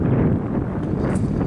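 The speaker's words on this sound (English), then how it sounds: "it's a little windy" Strong wind buffets the microphone in a continuous low rumble, loud and close, with no voices.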